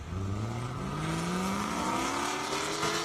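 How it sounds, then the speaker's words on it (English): Corvette Z06 race cars launch off the start on an airstrip course, their engines rising steadily in pitch as they accelerate. The sound is loud and continuous, with several engines layered together and no talk. "Listen to those cars take off."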